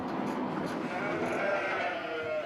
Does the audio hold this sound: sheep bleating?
yes